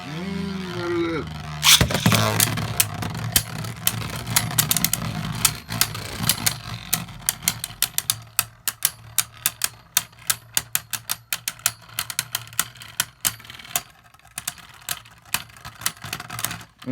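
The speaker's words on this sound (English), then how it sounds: "here we go with the final battle. 3, 2, 1, let it rip." Beyblade Burst QuadDrive spinning tops launched into a stadium after a loud opening burst, followed by a rapid, irregular run of sharp metallic clacks and clashes over a steady whirring hum, close and fairly loud.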